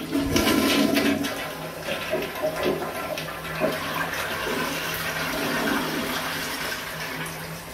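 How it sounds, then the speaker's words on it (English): An American Standard toilet in a Hampton Inn hotel suite bathroom flushes with a loud, close rush of swirling water that settles into a steady refill hiss, with no talk over it. "Let's flush it."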